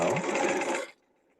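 Sewing machine running short stitches on a peplum jacket: a fast, close, whirring burst of just under a second that stops abruptly, leaving near silence.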